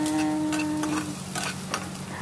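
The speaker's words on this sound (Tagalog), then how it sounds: "mainit na siya. Kaya, lagyan na natin yung sibuyas" Onion fries in a hot pan for stir-fried tofu, a close, crackling sizzle punctuated by several sharp spatula scrapes and stirs against the pan.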